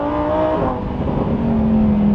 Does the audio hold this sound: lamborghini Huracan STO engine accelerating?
yes